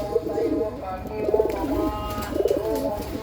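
A red female pigeon of Andhra Pradesh stock and her chick give soft, throaty coos in repeated rolling phrases, close by and steady, with no talk over them.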